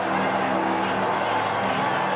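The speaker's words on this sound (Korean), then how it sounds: "광장은 감격과 환호로 가득 찬다" A large crowd in St. Peter's Square cheers and roars at the election of a new pope, a dense, steady wash of many voices with a faint tonal ring beneath, loud and continuous throughout.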